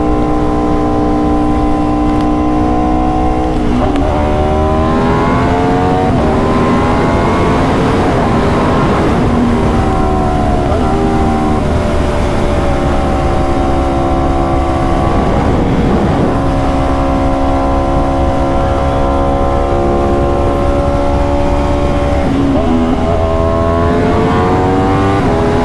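Aprilia RSV4 motorcycle engine on a ride, a loud, continuous harmonic drone that rises and falls in pitch through repeated accelerations and gear changes, with steady wind rush underneath and no talking.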